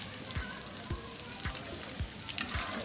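Beef fries on an iron griddle with a continuous soft sizzle and crackle, plus about five low thumps at a steady beat, heard close at a low level with no talking.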